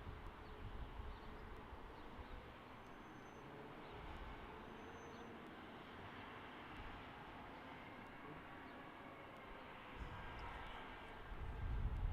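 Alaska Airlines Boeing 737 MAX 9 at Salt Lake City International Airport, a steady, fairly faint jet roar and rumble holding evenly throughout, swelling slightly at the end, with no voices.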